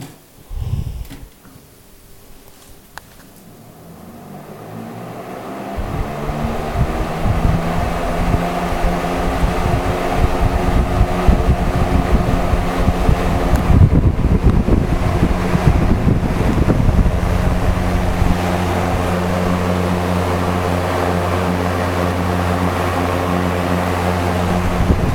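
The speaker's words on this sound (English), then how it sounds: "Sounds like one of them vent exhaust fans you find in some stores on number 1." A B&Q five-bladed box fan is switched on and spins up to setting 1, its whoosh and motor hum rising over several seconds into a steady, close, airy roar with a low tonal drone.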